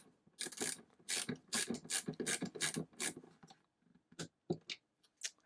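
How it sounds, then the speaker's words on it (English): Torque wrench with a 13mm socket tightening a terminal on a 12V 100Ah LiFePO4 battery: close, rasping ratchet clicks in quick bursts, then sparser single clicks as it snugs down. "So I have a little torque wrench here"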